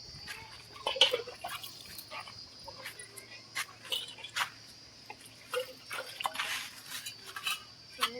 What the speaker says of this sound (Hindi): मोर बर्तन धुआ गए